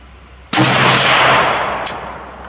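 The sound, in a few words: StG 44 rifle gunshot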